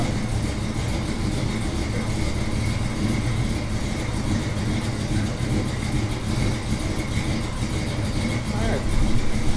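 A 1978 Chevy C10 engine with a mild cam and a 650 Holley carburetor runs steadily at a slightly rough, cold-natured idle, a close, constant low rumble under intermittent talk.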